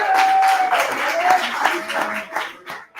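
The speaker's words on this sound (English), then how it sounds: "How about a big round of applause?" A live audience at Hanrahan's claps and applauds steadily for about three seconds, a dense wash of hand claps that thins slightly toward the end.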